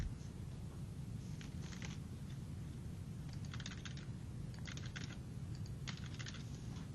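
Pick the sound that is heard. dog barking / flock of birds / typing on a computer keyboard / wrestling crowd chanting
typing on a computer keyboard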